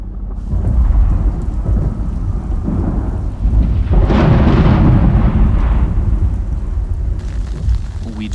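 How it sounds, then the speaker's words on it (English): Very loud thunder rolls and booms through a thunderstorm with steady heavy rain, the crash swelling to its peak midway and rumbling on without any talk. "We just heard the loudest thunder and the brightest flash."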